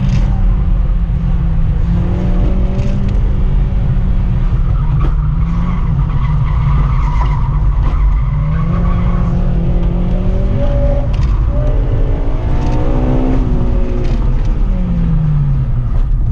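A race car's tires squeal and skid through a sloppy track run, sustained loud wailing tones sliding up and down over constant close engine roar.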